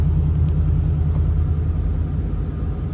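A 2015-or-later Ford Mustang sitting stationary at idle at full operating temperature, its engine a steady low rumble with a constant drone and no voices.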